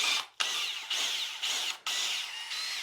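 A power drill whirs steadily while spinning a wooden dowel clamped in its chuck, with a few brief cutoffs and restarts, close and loud, no voices.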